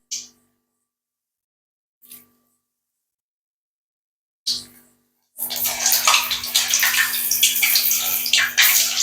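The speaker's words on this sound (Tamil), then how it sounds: "அதான் எண்ணெய் கொதிக்குது." Loud, steady sizzling and bubbling of hot oil in a pan, heating for frying mushroom 65, starts after a few short bursts, continuing densely to the end.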